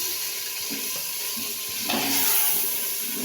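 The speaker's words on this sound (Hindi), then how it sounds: "2 से 3 मिनट में आलू को भूनूंगी।" Potato pieces frying in a pan, a steady close sizzle with occasional stirring scrapes and a brief louder surge of hiss near the end; no talking.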